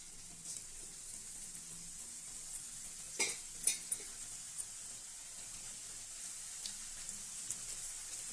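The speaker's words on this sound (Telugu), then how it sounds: "ఆయిల్ వేడెక్కిన తర్వాత ఒక్కొక్కటిగా నిదానంగా వేసుకోవాలి." Kajjikayalu, stuffed sweet dumplings, frying one by one in hot oil, a soft, steady sizzle with a few brief splashes and bubbling bursts, fairly quiet and without talking.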